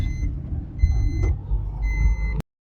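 An asphalt truck reversing on a road under repair, its backup alarm giving repeated evenly spaced beeps over a steady low diesel rumble, moderately close, ending abruptly.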